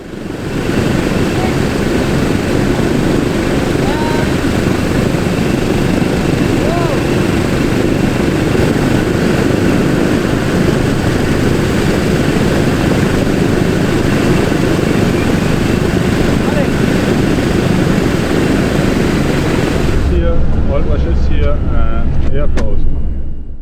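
A Douglas DC-6's piston engines run steadily during a ground run at an annual inspection, a loud continuous propeller drone with even texture throughout before cutting to a quieter, rumbling change near the end.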